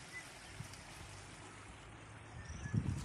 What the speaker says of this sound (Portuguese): Olha aí onde a água tá indo.